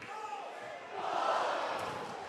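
Crowd noise at a Waverly at Piketon high school boys basketball game swells into louder cheering about halfway through, a dense roar of many voices in a gym that stays steady to the end.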